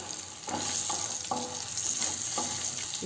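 Green chilies, curry leaves, garlic and asafoetida fry in hot oil for amla thokku, a steady close sizzle with several soft stirring scrapes at regular intervals and no talking.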